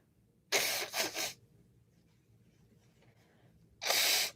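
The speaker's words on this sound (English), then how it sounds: "let me just blow my nose real quick." A person blows their nose twice, with a long honking blast, a quiet pause, then a second full blast, close and loud with no talking.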